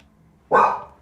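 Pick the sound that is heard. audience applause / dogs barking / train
dogs barking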